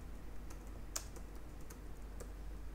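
Code is typed on a computer keyboard during work on a Laravel e-commerce web project, giving faint, sparse key clicks over a steady low hum of room noise.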